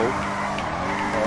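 Engine noise from a BMW drifting in GTA 5 roleplay, a steady car drone with faint tyre scrub running under continuous talk throughout the short burst.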